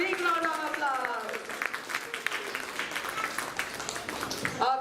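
An audience claps for a children's performance at a school event in Bangalore, with steady, moderately loud applause and some voices and a melodic tone mixed in early on.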